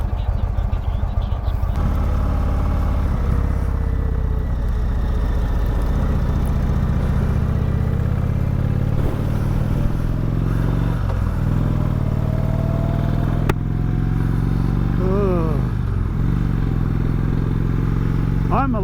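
A motorcycle engine runs continuously as the bike rides along a road on a camping trip, a steady mid-low drone with shifting pitch as it changes speed, and a voice speaks over it at times.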